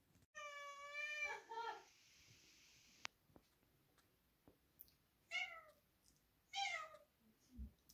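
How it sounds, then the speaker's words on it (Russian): Cats meowing indoors at feeding time, several separate plaintive meows: one long wavering call, then shorter ones a few seconds apart, fairly near, with a faint thump between them. "Мяукают."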